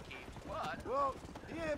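A horse clip-clops along at a steady gallop in the video game Red Dead Redemption, played on an Xbox 360 emulator, its hoofbeats running under a voice talking over the game.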